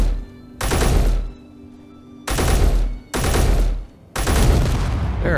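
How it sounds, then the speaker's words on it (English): Exploding barrels blowing up in the video game Space Engineers, four loud, heavy blasts in a row with a short pause between each burst, close and booming with no talk over them. "as you can see, it does explode pretty good"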